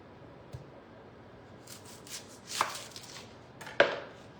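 Knife chopping an onion on a cutting board in a home kitchen, a few sharp separate thuds that grow louder toward the end, with quiet pauses between them and no talking.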